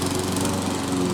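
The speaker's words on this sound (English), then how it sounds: "Of course, gotta have a dog barking and the neighbor's lawnmower running." A neighbor's lawnmower runs steadily nearby, its engine drone holding a constant pitch with a buzzing harmonic hum throughout.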